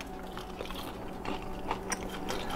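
Crunchy bites into air-fried yellow perch, a few crisp crackling bites and chewing sounds up close over steady background noise, with no talking.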